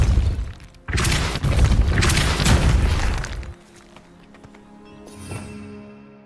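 Depulso force spell cast in Hogwarts Legacy, a loud booming blast burst lasting a few seconds, followed by quieter rattling debris and a brief later thump.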